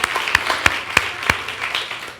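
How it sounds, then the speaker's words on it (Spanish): Applause from a church congregation during a worship service, a dense crackle of many hands with a few sharper claps standing out, fairly loud and steady for a couple of seconds with no talk over it. "denle un aplauso"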